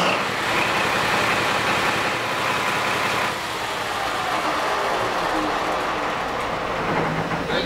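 A marine diesel engine with its turbo and aftercooler freshly reinstalled fires up and settles into a loud, steady, rumbling run close by, heard alone without talk.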